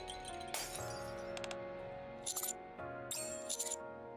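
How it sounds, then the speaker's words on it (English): Glass shatters in the video game NIKKE: several bright tinkling crashes and clinks in separate bursts, with shards jingling briefly after each, over a soft sustained musical background and no speech. "Broken glass is very dangerous after all."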